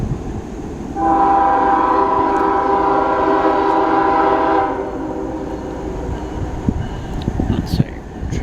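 Mixed freight train with distributed power units passing nearby: a long, loud horn blast holds for several seconds over steady train rumble, then fades into rolling noise with clicks and a faint voice.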